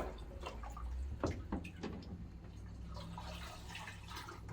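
Faint water runs and splashes into a film developing tank during black-and-white film processing, with soft drips and small knocks at the start before a quiet continuous trickle.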